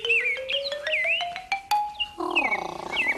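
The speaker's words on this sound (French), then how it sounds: "Écoute bien, on va entendre un cardinal à poitrine rose." A rose-breasted grosbeak sings a string of clear, warbled whistled phrases, close and fairly loud, with a rising tone running beneath and a burst of a rougher sound near the end.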